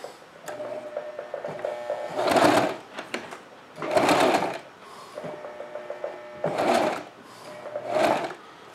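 Sewing machine stitching in short bursts, four loud whirring runs of about a second each separated by quieter mechanical ticking and clicking, close by with no talk.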